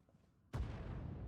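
In the game Star Wars: The Old Republic, quiet, then a single sudden heavy blast hits hard, leaving a sustained deep rumble and crackle ringing on afterward.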